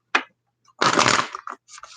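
A deck of tarot cards is shuffled in a few short, close bursts of papery rustle with brief pauses between them.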